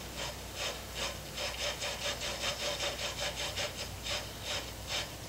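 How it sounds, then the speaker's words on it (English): Sandpaper rubbing inside a copper plumbing fitting during cleaning before soldering, a steady run of quick back-and-forth scraping strokes, close and moderately loud. "Take some sandpaper here. Clean the inside of that."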